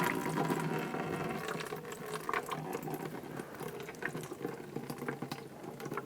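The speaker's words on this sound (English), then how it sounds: "you can remove one of the plugs in the back, either for the motor or the plug, and that'll release the fluid" Washer fluid drains from an opened plug on a Ford Focus windshield washer reservoir, a steady close trickling and splashing that continues without a break, with a faint mechanical hum beneath.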